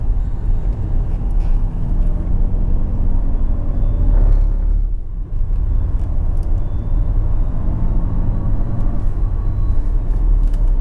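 A Jaguar I-PACE electric car laps the Portimao race circuit. A steady, loud in-cabin rumble of road and wind noise carries a faint futuristic electric whine, with a brief dip midway.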